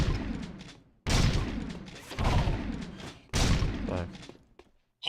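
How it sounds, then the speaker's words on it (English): Scattergun blasts on a video game firing course aimed at targets, three or four loud booming shots spaced about a second apart, each with a long decaying tail, close and dominant with no talk over them. "You want to try the scattergun course? Lock and load."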